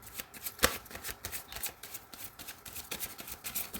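Tarot cards are shuffled by hand close up, a soft continuous riffle of flicks and slaps that comes in quick bursts, faint and without talking.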